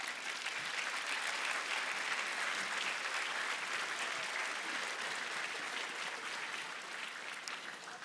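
Audience applause at the opening of the Ilirija sports centre, a broad, steady wash of many hands clapping that holds at full strength for several seconds before easing slightly at the end.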